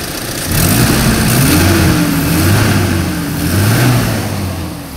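A car engine revved with the throttle, rising from a steady idle into a loud, smooth climb and holding, then settling back with a second rev, recorded close up.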